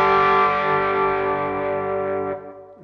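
A single electric guitar chord struck through an Overdrive Pro distortion pedal rings out loud and saturated, sustaining and slowly fading before being cut off, with a faint scrape at the end.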